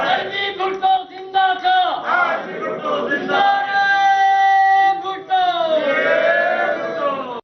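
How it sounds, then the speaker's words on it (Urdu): Pakistan Peoples Party supporters at a gathering for Zulfikar Ali Bhutto's birthday chant political slogans in unison, loud rhythmic call-and-response bursts of massed voices that rise and fall in repeated phrases. "جیالوں نے جی بھٹو کے نعرے لگائے۔"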